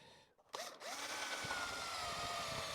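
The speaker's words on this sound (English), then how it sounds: "I don't know if this drill's going to make it." Electric drill used while sharpening flat drill bits: after a brief quiet gap, the motor whirs up and runs steadily and loud, with faint grinding under the whine.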